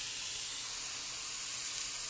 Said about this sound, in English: that juice is, of course, sizzling on the bottom of the pan.